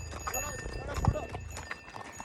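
Horse hooves clip-clop on a ride toward the Muktinath temple gate in Nepal, with rhythmic hoofbeats close by under ongoing talk from riders.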